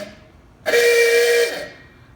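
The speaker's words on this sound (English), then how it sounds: "It has an aftermarket horn, just a silly sounding horn." A single loud aftermarket horn honk on a 2008 Toyota Prius, a steady blaring tone lasting under a second, fading out afterward with no talk.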